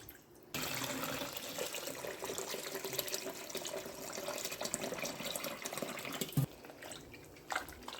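Water is poured and splashed while homemade butter is washed for making ghee, a steady close-up gushing and sloshing that stops abruptly near the end, followed by a few drips.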